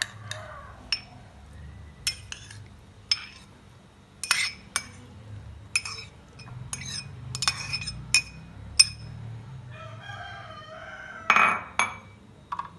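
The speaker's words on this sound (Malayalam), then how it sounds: "ആദ്യം നമുക്ക് ഒരു മിക്സി ജാറിലേക്ക് പൊണ്ട ഇട്ട് കൊടുക്കാം." Tender coconut going into a mixer jar for a homemade pudding, heard as a series of sharp, close glassy clinks and taps spaced irregularly over quiet room hum, with no talking.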